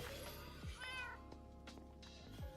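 A cat in the Minecraft video game gives two or three soft, short meows at a low level over a quiet game ambience.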